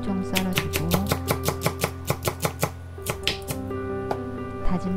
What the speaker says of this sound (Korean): 대파는 쫑쫑 썰어주고